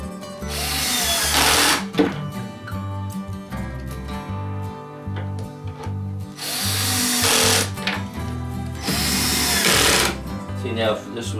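A power drill drives a square-drive bit into a black walnut dining table, running in three loud sustained bursts separated by short pauses, with a person talking in between.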